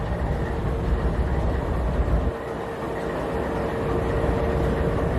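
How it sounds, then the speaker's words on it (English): Locomotive 4990 rumbling past with a steady, loud low roar of engine and rolling wagons, dipping briefly midway then continuing evenly, with no voices. "This is the Gorgeous Locomotive 4990."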